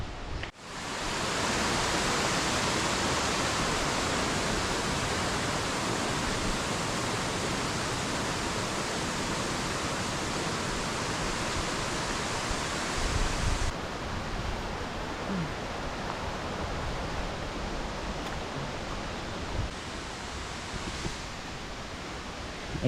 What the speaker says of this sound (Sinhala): ගස් අස්සෙන් වතුර වැටෙනවා.